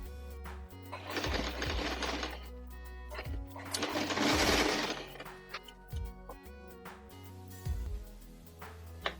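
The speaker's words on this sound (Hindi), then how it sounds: "कपड़े को इस तरह से पकड़ना है और जो पॉइंट तक मार्किंग की है वहां तक स्टिच लगाना है।" A sewing machine stitching tucks into the fabric of a floral-print long gown runs in two steady bursts of rapid mechanical whirring, separated by quieter handling sounds.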